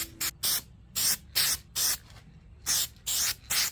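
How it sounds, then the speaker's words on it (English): Steel It coating is sprayed onto a Nissan 240SX car chassis in about nine short, sharp hissing bursts separated by brief pauses, close and loud. "I'm going to go ahead and spray Steel It onto the chassis"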